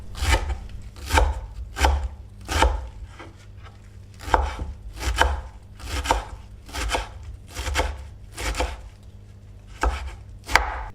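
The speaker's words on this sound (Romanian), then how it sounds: "o legătură de leuștean verde pe care l-am tocat fin" A knife finely chops a bunch of green lovage on a cutting board in a steady run of close, crisp thuds, about one per second, with no voices.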